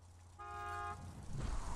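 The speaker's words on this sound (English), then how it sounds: "Just drive up and honk your horn." A car horn in the video game Borderlands 2 gives a single half-second toot over a low engine hum, followed by rougher vehicle noise.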